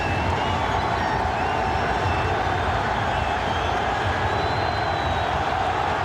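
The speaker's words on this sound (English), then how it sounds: "The crowd is alive at the Staples Center." A dense, roaring basketball crowd at the Staples Center during the 2000 NBA Finals, Game 6 between the Pacers and Lakers, as a loud, constant wall of cheering and noise with no breaks.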